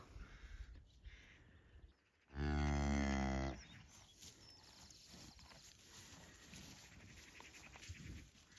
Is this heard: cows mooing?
yes